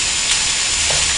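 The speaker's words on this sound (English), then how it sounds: "I just stir that in there." Chunky meat sauce sizzles steadily in a hot pan while being stirred, a continuous loud frying hiss with faint scraping, no talk.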